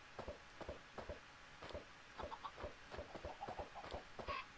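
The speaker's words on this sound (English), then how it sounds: "Getting more chickens in here." Chickens in a survival video game cluck quietly in a steady, rapid run of short clucks that continues throughout.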